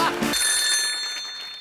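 A telephone rings with a bright electronic trill that sustains steadily and slowly fades, heard while a call is placed to Santosh during a comedy talk show.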